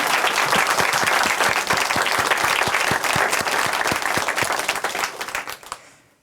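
Church congregation applauding after a testimony, a dense run of many hands clapping loudly and steadily, then fading out near the end with no talk over it.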